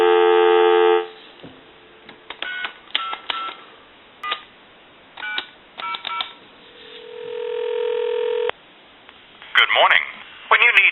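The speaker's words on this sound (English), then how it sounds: "Give you some dial tone." A brushed stainless Ericofon reproduction telephone gives a steady dial tone, then several bursts of touch-tone dialing beeps with pauses between them. A ringback-like tone and a recorded voice follow near the end.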